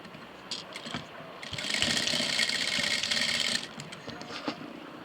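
A sewing machine stitches rubber inside a shoulder strap, running in one steady whirring burst of about two seconds, close by, framed by clicks and handling noises before and after.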